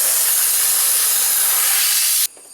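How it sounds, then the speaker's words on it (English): Compressed air blasting dirt off the engine of a square-body Chevy truck, a loud, steady broadband hiss that runs close-up for a couple of seconds and then cuts off abruptly. "then I'm just going to blow all the dirt off of it"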